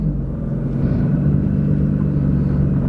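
A Nissan GT-R engine runs rough, heard from inside the car as a deep, uneven low rumble that holds steady for a few seconds.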